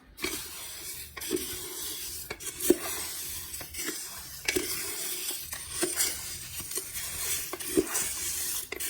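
Spices for homemade curry chili powder are stirred and mixed by hand in a vessel, giving a close, steady dry rustle and scraping with occasional sharper knocks against the pot, with no one speaking.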